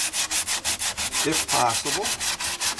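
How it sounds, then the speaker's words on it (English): Steady back-and-forth hand sanding of carbon fiber bodywork on a Honda NS250R motorcycle, rhythmic rasping strokes close up with a brief mumbled phrase partway through. "I'm going to just finish the sanding, only the parts that need to be addressed here"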